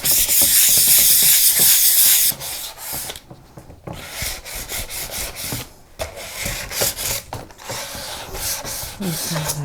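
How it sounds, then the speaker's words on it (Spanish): Light hand sanding of chalk-painted wood with 600-grit wet sandpaper: loud, close raspy strokes rubbing back and forth in an uneven rhythm, with brief pauses between passes. "Y le damos una ligera lija."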